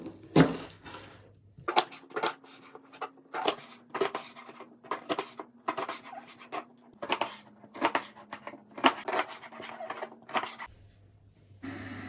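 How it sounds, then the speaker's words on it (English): Rhubarb sticks being chopped into small pieces on a board, a steady run of crisp knife knocks and crunches, some fast and clustered, some spaced apart, close and clear over a quiet room. "We need to cut the rhubarb into small pieces."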